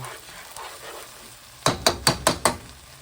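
Chicken pot pie filling is stirred in a pan: five quick, sharp scraping strokes in a steady rhythm follow a quieter stretch of faint sizzling, close and without talk.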